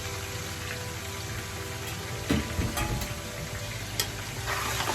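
Okra, garlic and meat fry in a pot with a steady soft sizzle, broken by a few scraping, clattering stirs of a spoon against the metal.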